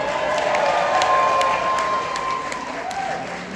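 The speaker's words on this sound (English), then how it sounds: "I'm going to give him a big round of applause" An evening audience applauds after a song, dense, steady clapping from a crowd with scattered cheers and voices mixed in, sustained for several seconds.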